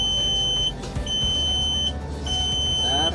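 Alarm buzzer on a Volvo FM/FH truck unit, heard as steady high electronic beeps in a repeating on-off pattern, three bursts in total, over a background of engine or cab rumble, with no talking.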